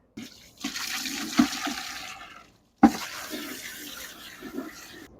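A hose sprays water to rinse out an aquarium canister filter, with a rushing, splashing gush for about two seconds, a short pause, then a second strong burst of spray that keeps running close by.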